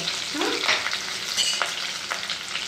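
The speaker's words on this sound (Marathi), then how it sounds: "ह्याच्यामध्ये टाकल्या लसणाच्या पाकळ्या, ह्याच्यामध्ये टाकला हा कढीपत्ता, ह्याच्यामध्ये टाकल्या 2-3 कापलेल्या मिरच्या." Garlic cloves, curry leaves and two or three chopped green chillies fry in hot tempering oil, a steady close sizzle with a few crackles and a light stir, no talking.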